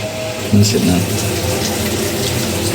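Whirlpool top-load 8 kg washing machine drawing in water to fill, a steady rushing hiss with low hum throughout, while someone talks over it.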